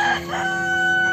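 A rooster at Osh bazaar market in Bishkek crows once, a short close call with a rising then held tone, over faint market background noise.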